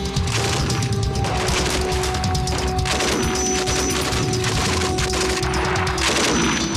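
Heavy sustained gunfire from a military patrol returning fire on an enemy contact, a dense continuous fusillade of shots and booms, loud and close throughout with no speech.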